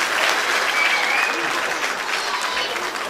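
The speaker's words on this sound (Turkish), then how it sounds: "Bunu alkış." An audience applauds a child during a live Barış Manço impersonation show, a loud, dense wash of clapping sustained throughout.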